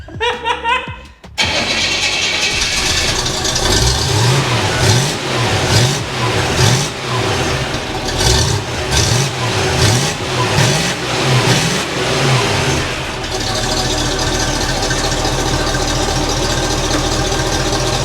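A 283 V8 engine in a 1967 Chevelle revs repeatedly in rising and falling bursts, loud and close, heard from the back, then settles into a steady rumbling idle; a brief voice at the start.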